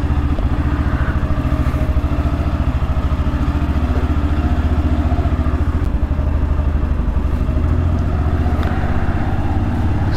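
A Yamaha FZS V3 motorcycle rides along at a steady pace after a cold start, its engine giving a loud, continuous, close thrum with rhythmic firing pulses and faint mechanical clatter.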